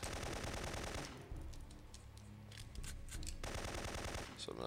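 Rapid automatic gunfire bursts from Syphon Filter 3, a loud sustained rattle at the start, a quieter stretch with scattered shots in the middle, then heavy firing again at the end.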